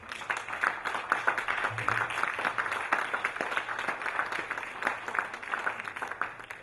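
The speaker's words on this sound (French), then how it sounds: "Acclamons Jésus très fort" A church congregation applauding during a worship service, dense sustained clapping from many hands throughout, loud and close with a faint voice beneath.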